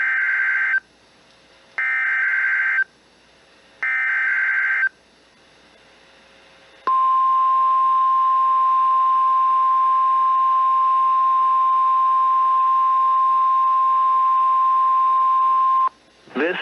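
NOAA Weather Radio warning alarm test: three short, loud paired-tone bursts about a second apart, then a long steady single-pitch alert tone held for roughly nine seconds, ending abruptly.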